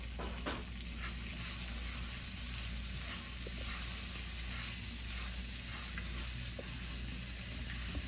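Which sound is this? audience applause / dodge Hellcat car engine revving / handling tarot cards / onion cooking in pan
onion cooking in pan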